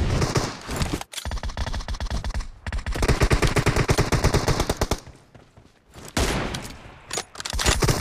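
Gunfire in a mobile team deathmatch shooter game, heard as loud, close, rapid bursts of shots with brief gaps, going on almost without a break.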